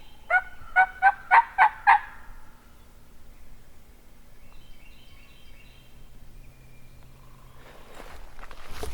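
A wild turkey gobbling once in the field, a rapid burst of rattling gobble notes up close, followed by quiet outdoor ambience and a rustle near the end.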